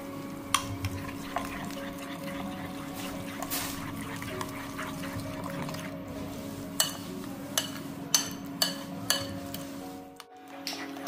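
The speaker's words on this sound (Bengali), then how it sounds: "এবার এটাকে পুরো মিক্স করবো আমরা ভালো করে।" A spoon stirs and mixes a chicken BBQ marinade with coriander-cumin powder in a bowl, a soft continuous wet churning punctuated by several sharp clinks of the utensil against the bowl, close and fairly quiet.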